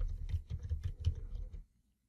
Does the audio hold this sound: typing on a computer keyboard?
yes